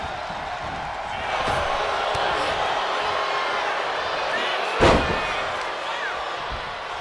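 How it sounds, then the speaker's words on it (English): Arena crowd in the WWE 2K25 wrestling video game, a broad sustained roar of cheering with a sharp slam near the end, under a commentator's voice. "This capacity crowd is really willing these competitors on."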